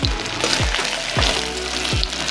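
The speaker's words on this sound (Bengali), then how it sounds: "তো আমাদের ডিম ভাজা বসানো হয়ে গেছে।" Eggs fry in a pan with a constant close sizzle, punctuated by regular dull knocks roughly every half second, like a utensil striking the pan.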